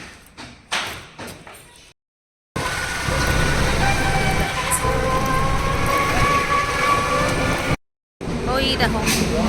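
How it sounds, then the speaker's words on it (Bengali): A Thakurnagar local train rumbles past behind, loud and steady for about five seconds between two brief cuts. Voices are heard in the opening moments. "পেছন থেকে ট্রেন যাচ্ছে আজকে ব্যাক ক্যামেরা অন করে দেখাচ্ছি না এটা ঠাকুরনগর লোকাল"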